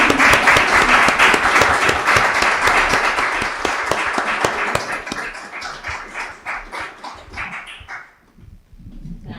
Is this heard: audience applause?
yes